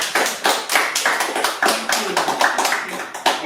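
A small home audience claps for Grandpa Vincent, the Francisco Sinatra of Franklin Park, at a summer backyard show: a steady patter of close, uneven hand claps with rapid rhythmic bursts, loud and alone.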